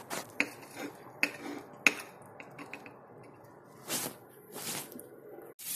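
A knife cuts boiled eggs into pieces on a board with a few sharp, close clicks at first, then softer, scattered taps and scraping in an otherwise quiet kitchen.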